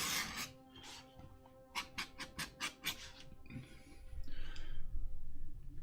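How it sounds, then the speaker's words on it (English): Hand file rasping along the beveled edges of laser-cut armor pieces, a steady series of about six rhythmic scraping strokes, close and moderately loud, over low background noise. "I've got all this stuff laser cut out, so I've got to clean it up, do some bevels and stuff,"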